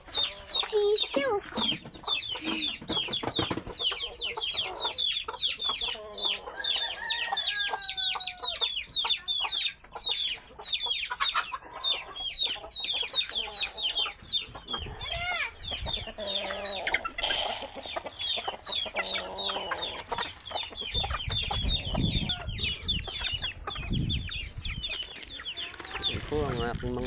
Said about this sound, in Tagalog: Ito ang aking mga manok.